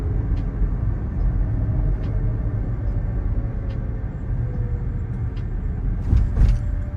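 A self-driving Waymo car rolls smoothly through Chandler, Arizona, heard from inside as a steady low road and engine rumble with faint ticking and a brief louder swell near the end.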